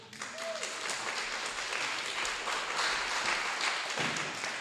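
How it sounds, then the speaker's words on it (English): Steady applause from an audience honouring a mother at an award event, a dense wash of clapping that holds evenly throughout with a brief tonal whistle near the start. "Can we give Mum Dukes a round of applause?"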